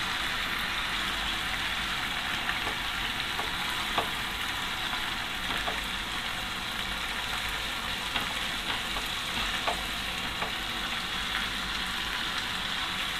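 Ground coriander and dried chili powder fry in a pan for an egg korma, giving a steady, even sizzle throughout with faint scattered ticks of spatter and no voices.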